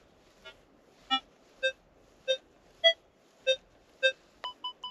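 A RUTUS Versa NC metal detector beeps over a small buried silver coin. Clear tonal beeps repeat roughly every half second, followed by three quicker beeps at the end, heard alone in quiet surroundings.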